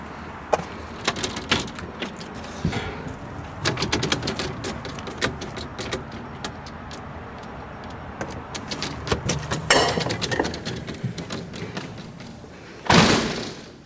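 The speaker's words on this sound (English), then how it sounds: "Entering front door." The front door of a house is opened and stepped through, with scattered knocks, thuds and clatter and one sharper slam near the end, heard up close with no talking.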